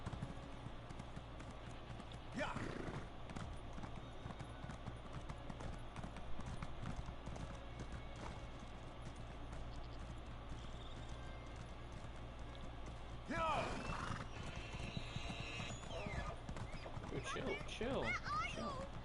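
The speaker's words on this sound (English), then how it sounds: "Horses are slow in this game, I don't know why." Horse hooves clip-clopping at a steady trot or gallop throughout in the snowy Skyrim region of the online game Elder Scrolls Online Greymoor, with a brief whinny or burst of activity midway, all under a talking voice.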